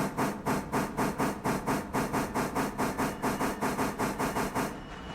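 Steam locomotive in the RailRoader video game chuffing in a steady, rapid rhythm of loud exhaust beats with hiss, about twenty even puffs, close and alone before fading at the end.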